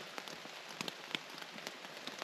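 Rain falling on a tent at a lake campsite during a solo canoe trip, a steady close patter of drops with scattered sharper taps, soft and continuous.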